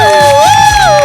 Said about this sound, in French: Alors accueillons-les avec des applaudissements.